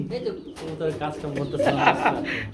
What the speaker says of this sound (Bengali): আজকে কিন্তু অসংখ্য কবুতর রয়েছে